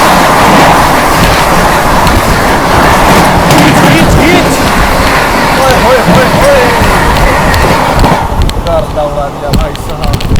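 The New Delhi–Ranchi Rajdhani Express rushes past at about 130 km/h, a loud continuous roar of wheels and rattling coaches close by that eases off near the end.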